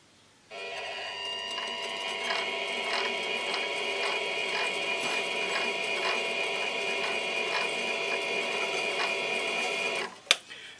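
A motorized winder turns kiln element wire under tension into a tight coil, giving a steady mechanical whir with a regular ticking rhythm. It runs for about ten seconds and ends with a sharp click.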